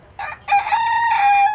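A rooster crows once in Bali, a loud and close rising call that holds a long steady note with a short opening burst before it, with no other sound around it.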